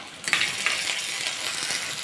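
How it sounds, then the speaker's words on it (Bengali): Ginger and onion fry in a pan with a bright, steady sizzle, broken by light scraping and clinks as they are stirred, close and fairly quiet, with no talking. "আদা দিয়ে একটু পেঁয়াজটার মধ্যে আবার একটু নাড়াচাড়া করে নেবো।"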